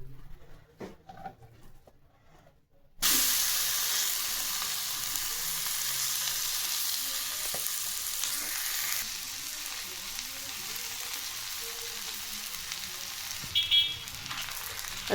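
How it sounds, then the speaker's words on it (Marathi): Bottle gourd dhapata (flatbread) frying in oil on a hot tawa, a loud steady sizzle that bursts in after a quiet start and continues without talk to the end. "यावर तेल टाकू आणि याच्यावर धपाटा तवा टाकून घेऊ."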